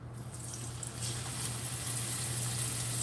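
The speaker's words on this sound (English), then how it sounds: "there's a particular sound that your chicken should make when you put it in the pan" Boneless chicken sears and fries in a hot pan, a steady close hiss and crackle of sizzling oil that holds loud and continuous throughout with a low hum beneath.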